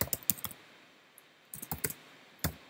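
Bursts of computer keyboard typing, short clusters of quick clicks separated by a quiet pause, close and fairly soft with no talking.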